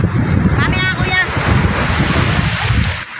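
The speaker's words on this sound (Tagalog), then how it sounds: "yun yung mga alon" Sea waves wash against the shore at Anawangin Cove, San Antonio, Zambales, under steady gusts of wind buffeting the microphone, a loud, continuous rush with a brief voice near the start.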